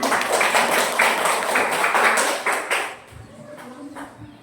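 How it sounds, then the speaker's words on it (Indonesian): A small group, likely a classroom, claps in a brief, brisk burst of sharp hand claps for about three seconds, then it drops off to quieter scattered sounds. "Oke, tepuk tangan"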